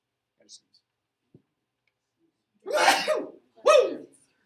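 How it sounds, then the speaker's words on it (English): Two sharp, close sneezes in quick succession, the first slightly longer, following near silence with a faint click or two. "Gotta sneeze."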